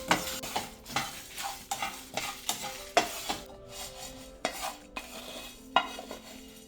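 Whole spices — cardamom, cinnamon, star anise and black pepper — dry-roasting in a home kitchen pan, with a steady run of scraping stirs and light crackle, repeated spoon strokes every half second or so, close and moderately loud.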